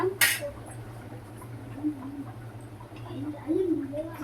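Spoon stirring fish curry in a metal pot: a sharp scrape at the start, then soft intermittent clinks and a quiet liquid stir over a steady low kitchen hum.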